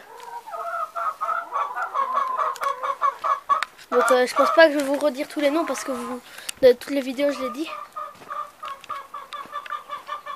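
Bantam and semi-bantam hens in a poultry yard cluck and call continuously at close range, with a voice talking over them.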